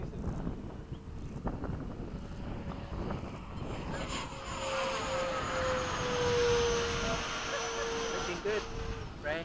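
A radio-controlled F-15 model jet runs at full throttle, its steady high whine sliding gradually in pitch over strong wind and outdoor background noise, with people talking nearby.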